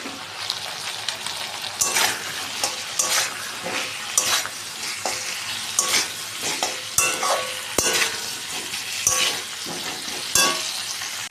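Ginger-garlic paste sizzles loudly in a pan while a utensil stirs and scrapes it in frequent bursts, with sharp clinks against the metal and no talking.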